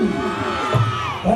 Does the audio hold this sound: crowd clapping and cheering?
yes